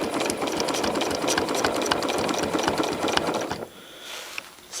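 A domestic sewing machine stitches crosshatch quilting around applique. The needle runs in a loud, steady, rapid close-up whir for about three and a half seconds, then stops, leaving quiet handling sounds.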